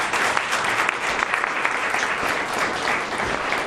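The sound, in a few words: audience applause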